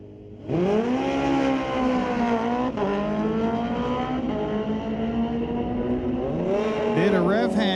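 Drag racing motorcycles, a 2005 Yamaha with a 998 engine and a 2012 Kawasaki with a 1441, launch off the line together. A sudden loud roar sustains with a rising pitch, and a shift is heard near the end.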